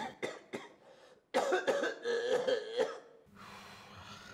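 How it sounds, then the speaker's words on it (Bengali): Several harsh coughs come in quick bursts in a radio drama, then a longer, heavier fit of coughing and throat clearing, followed by low murmuring noise. "আপনার তো দেখা যাচ্ছে ভয়াবহ কাশি"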